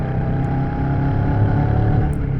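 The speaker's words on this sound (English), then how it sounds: "650cc parallel twin engine. Engine has a nice sound" Steady, continuous drone of a Royal Enfield Shotgun 650 motorcycle's 650cc parallel-twin engine, with a deep low rumble, held at a constant pace close by, with no voices.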